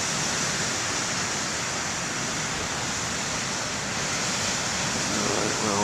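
Ocean waves roll in at the main lighthouse beach at BTL, a loud, steady broadband wash of surf with constant churning and no clear breaks between waves.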